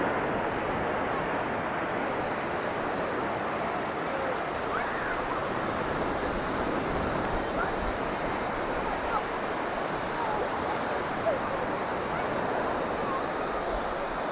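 Sea waves wash over and churn the sand at Porthminster Beach near St Ives on the north Cornish coast, a steady, loud roar of surf blended with wind buffeting the microphone, continuous throughout.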